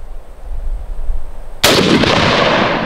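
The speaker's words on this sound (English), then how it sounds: "I'm gonna shoot it again for good measure." A single loud gunshot fired outdoors at a cheap $35 body armor plate cracks sharply after quiet background hiss, followed by a long rumbling echo that fills the rest of the moment.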